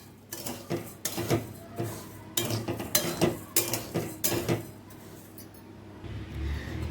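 Rice for chakli is dry-roasted in a pan and stirred, producing a close series of rhythmic scraping and clattering strokes against the metal, which thin out and fade toward the end.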